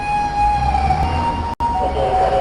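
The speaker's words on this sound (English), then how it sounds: "That's like the second fire ambulance I heard today." A fire ambulance siren in Japan wails loudly and close, its steady tones sliding as the vehicle passes, with a brief dropout partway through.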